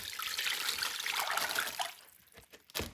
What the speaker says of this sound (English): I have my mixture of soup and broth, and I'm going to pour it over my chicken